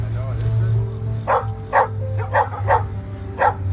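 Dogs stuck in a drainage ditch give a series of about six short, sharp barks, close and evenly spaced, over a low steady hum; a voice talks briefly before the barking begins.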